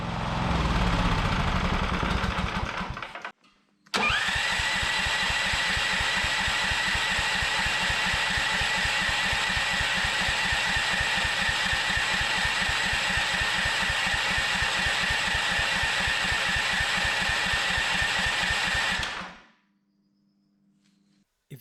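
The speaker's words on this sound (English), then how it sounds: "Here I'm running the engine out of fuel to demonstrate this." A DIY remote-controlled small engine runs at a steady, even idle until it sputters out of fuel and falls silent. A short earlier burst of engine noise stops abruptly before the long run.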